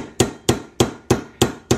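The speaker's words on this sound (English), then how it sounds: "And we're using my Craftsman multi-hammer." A Craftsman multi-hammer strikes a dime with six sharp metallic blows at a steady rhythm, each impact loud and close with a short ringing decay.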